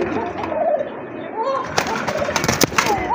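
A pair of Koka pigeons, a breed kept for its strong call, coo in a loft among other birds; the cooing is close and repeated, with a brief burst of clattering noise near the end.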